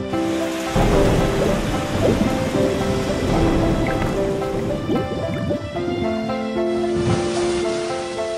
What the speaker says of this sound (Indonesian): Terkadang, hujan badai yang ganas menghadang perjalanan mereka.